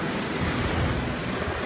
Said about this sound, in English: I don't know about these waves